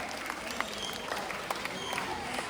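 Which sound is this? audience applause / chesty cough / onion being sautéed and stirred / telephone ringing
audience applause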